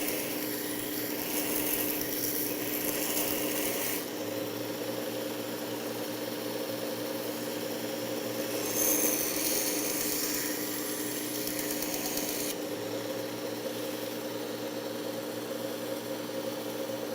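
A knife with a broken tip having its bevel reground on a powered grinder, a steady motor hum with rasping metal contact that swells and eases as the blade is pressed on and lifted off, no speech.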